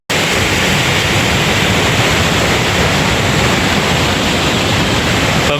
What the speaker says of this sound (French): une petite rivière comme ça là. Et puis elle fait un sacré bruit, c'est pas une petite rivière non plus.